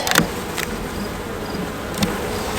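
Honey bees hum steadily around an open hive during a super inspection, a continuous close buzz with a few louder passes of individual bees drifting near.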